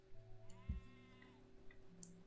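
Sheep bleating in the farming video game Stonehearth, one short faint bleat near the start over a quiet, steady game soundscape with soft tones.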